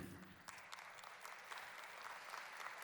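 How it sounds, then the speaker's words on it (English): Steady audience applause fills a volunteer appreciation event, a dense wash of many hands clapping at moderate level throughout, with no voices standing out. "You can keep that applause going"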